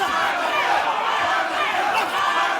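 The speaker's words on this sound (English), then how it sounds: "As the crowd, the Kazakh sections, they chant for Janibek." Kazakh boxing fans fill an arena with a dense, steady roar during Janibek Alimkhanuly's fight against Andrei Mikhailovich, many voices blending into continuous loud chanting that holds up across the whole stretch.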